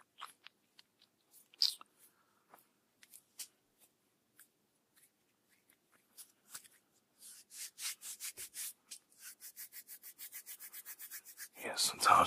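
Hands rubbing during an ASMR neck and shoulder massage, close and soft, with sparse brushing strokes at first that build into a steady run of quick rhythmic rubbing passes near the end.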